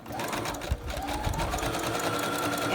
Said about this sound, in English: You want to set your sewing machine on a large zigzag stitch to finish the edges